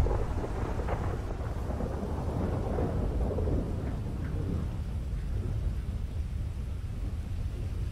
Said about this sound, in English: Storm's really picking up.